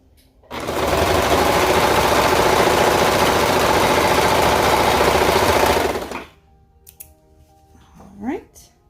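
A sewing machine runs in one steady, loud burst of about five and a half seconds while stitching the waistband of ruffle shorts. It stops, then a few faint clicks and handling noises follow, with a short soft sound near the end.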